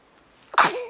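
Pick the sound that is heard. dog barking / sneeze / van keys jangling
sneeze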